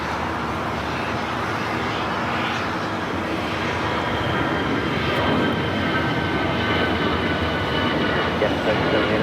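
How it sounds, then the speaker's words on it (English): An Air Canada A320 takes off at Los Angeles International Airport, a steady broadband jet roar that holds loud and builds slightly toward the end, with no break over nine seconds. "Next takeoff is Air Canada 555 taking off to Vancouver on the A320."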